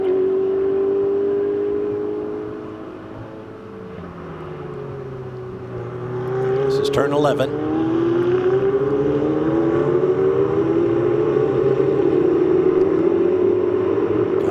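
Ferrari Challenge race cars at Circuit of the Americas scream past at turn 11 with rising and falling engine notes and Doppler sweeps, growing louder into a close, sustained roar while a commentator briefly speaks.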